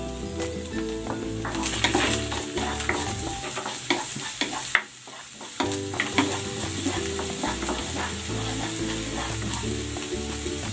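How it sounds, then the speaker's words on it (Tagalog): Garlic and ginger sauté in a hot pan, a steady frying sizzle under scraping and stirring clatter, close and fairly loud, with a brief quieter gap midway before the sizzle and utensil clinks resume. "Magigisa na ako ng bawang. Isasabay ko na rin itong luya."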